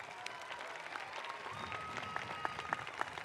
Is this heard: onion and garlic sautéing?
no